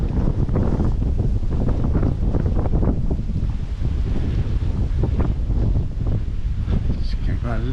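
Heavy wind buffets an exposed camera microphone on a river bank, a constant loud low rumble and roar lasting the whole stretch with no pauses.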